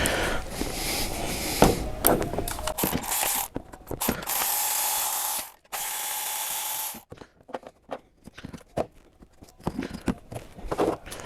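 A ratchet clicks steadily while loosening spark plugs from a Toyota Corolla engine that runs rough, with bursts of rapid pawl clatter broken by short pauses and quieter handling noises.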